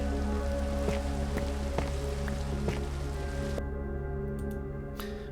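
Steady rain patters on surfaces in Minecraft, a constant hiss with a low droning hum beneath and a few faint clicks, fading slightly near the end.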